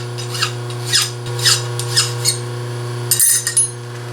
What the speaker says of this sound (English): Let's go ahead and deburr these, and we'll drill some holes.